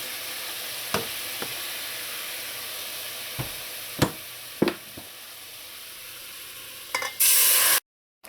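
Black beans tipped into a hot pot with roucou, giving a steady sizzle broken by several sharp clattering stirs and scrapes, then a brief loud hissing burst near the end before cutting to silence.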